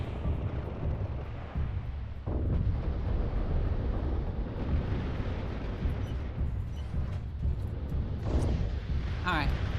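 Mech weapons fire at a turret in the Mechwarrior Living Legends video game, with a continuous rumbling barrage and several heavier booming impacts over sustained noise.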